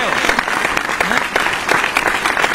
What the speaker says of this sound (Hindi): तालियां वालियां बजाते रहो, तालियां कम बजा रहे हो तुम